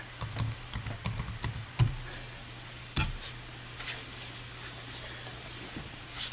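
Keys clacking on a netbook keyboard in irregular bursts of taps with short pauses, close and moderately loud, with a low steady hum underneath.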